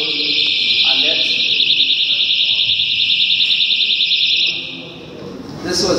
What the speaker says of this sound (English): We have an alarming sound that will alert.